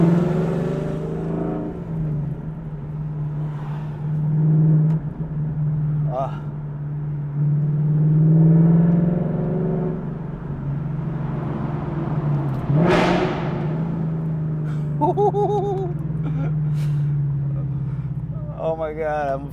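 A car fitted with a Corsa Extreme active valve exhaust drones loudly at cruise, then rips through one sharp rising rev with crackles; people talk over the sound throughout.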